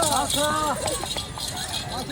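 Hooves of a ridden horse clip-clopping during Eid festivities with cousins, light rhythmic steps mostly buried under loud, excited shouting voices.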